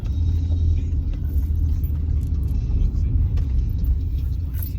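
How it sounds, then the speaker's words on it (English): A car engine rumbles steadily and close by as the vehicle drives and pulls in to park, a loud low drone with faint voices mixed in. "Park my car."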